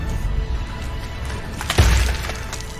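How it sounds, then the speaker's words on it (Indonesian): In a Japanese zombie film, a rifle butt smashes into a zombie's head, heard as one loud crunching, shattering impact midway through, following tense ambient background sound. "memutuskan untuk menghantamkan gagang senapannya ke kepala"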